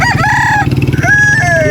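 Native chickens at a Philippine pet market, a rooster crowing loudly and close in a short burst with clucking and other fowl around it.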